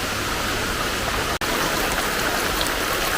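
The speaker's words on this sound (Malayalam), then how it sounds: "നല്ല മഴ പെയ്യുന്നുണ്ട്." Heavy rain falls steadily outdoors as a dense, even hiss, with a brief dropout partway through. No voices are heard.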